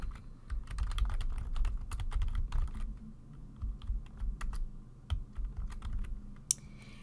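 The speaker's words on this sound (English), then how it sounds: "I'm going to type in my contact information." Computer keyboard typing of contact details into an online form, a steady run of close, quick key clicks with brief pauses, no talking.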